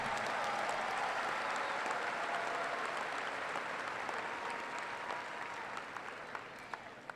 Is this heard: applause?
yes